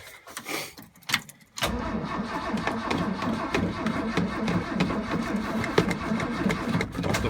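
A 1979 Ford F150 engine cold-starts on the choke after a brief crank, then settles into a steady, rough, loud idle close by.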